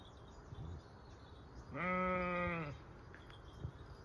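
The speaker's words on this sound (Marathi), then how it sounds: "तर इथं मेंढी वरडती आहे." Faint outdoor background, then a single clear sheep bleat lasting about a second before it goes quiet again.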